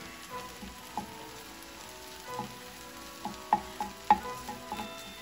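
Salmon fried rice with egg being stirred in a pan, a soft steady frying sizzle broken by scattered scraping clicks of the utensil that grow louder and more frequent toward the end.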